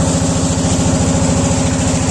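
A motor boat engine runs steadily and loud close by on a river trip to Bholaganj Sada Pathor near Sylhet, a constant throbbing drone with no talk.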